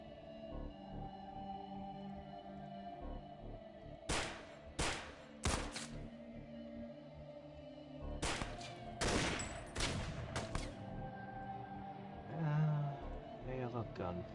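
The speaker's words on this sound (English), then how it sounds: "Hail of gunfire." Bursts of rapid gunfire crackle in several loud volleys in the XCOM video game, with a steady hum and occasional voices between them.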